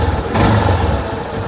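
A motorcycle engine idles after an injector cleaning, a low steady running hum that picks up slightly in intensity partway through and settles into an even idle, with no talk.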